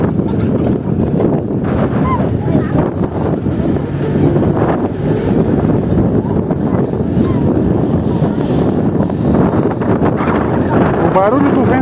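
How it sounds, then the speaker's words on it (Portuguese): Wind buffets a microphone outdoors in the Brazilian sertão, a constant loud rumbling roar that runs through the whole stretch while people talk underneath it. "O barulho do vento passando na sua televisão, na sua Smart TV e no seu smartphone."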